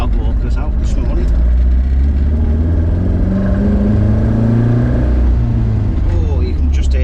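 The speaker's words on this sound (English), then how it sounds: "Oh, you can just hear that engine, can't you?" A Porsche 914 engine revs hard and accelerates on a road test, a loud, steady in-car roar with rising pitch, and a voice talks over it briefly.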